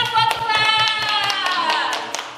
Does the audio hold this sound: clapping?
yes